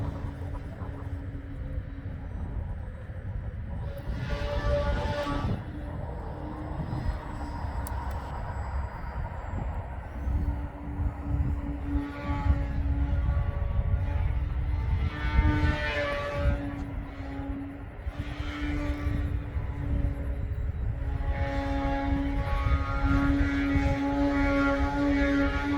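An electric Bushmaster model airplane's motor, powered by a Glacier 5S battery pack, whines steadily in the distance, its pitch rising and falling as it passes, over low wind rumble.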